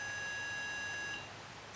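A paranormal investigation pod device beeps during a night session on Poveglia island, giving one steady, fairly loud electronic tone that holds for just over a second and then cuts off into quiet background hiss.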